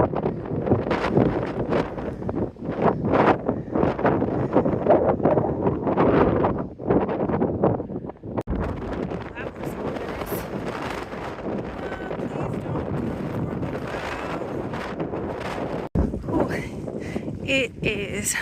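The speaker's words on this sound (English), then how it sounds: "It is cold and windy and spitting rain." Wind blows hard on Baldpate mountain on the Appalachian Trail in cold, rainy weather, buffeting the microphone in a steady, loud roar with gusts throughout.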